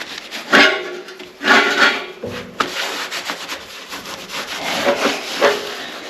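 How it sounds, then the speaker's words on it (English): Hand sanding a radiator with 180 grit sandpaper, repeated rough rubbing strokes in uneven bursts, close and fairly loud with no voices. "I'm going to be using a 180 grit sandpaper"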